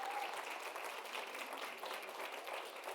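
Faint, distant crowd applause at a marketing executives' summit in Atlanta, a steady wash of clapping throughout.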